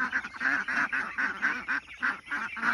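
Ducks on a dry field with no water, quacking loudly and continuously in a dense, rhythmic chorus of repeated honking calls close by.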